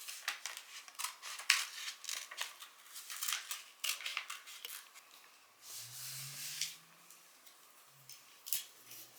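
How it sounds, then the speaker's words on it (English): Scissors snip out a paper piece for a U.S. election lap book, a run of crisp close cuts in short bursts, with some rustling of the paper between them and no talk. "we're going to cut this out"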